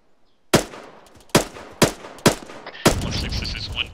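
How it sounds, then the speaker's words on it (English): Heavy machine gun fire in a military video game during platoon training: five loud, sharp, separate shots spaced about half a second apart, each with a reverberant tail, then a noisier continuing background of distant battle. "There's a heavy machine gun."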